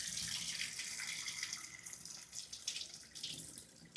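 Water pours steadily off washed boiled rice (kuchalakki) while it is drained in a home kitchen, a soft continuous splashing trickle that holds quietly throughout with no talking.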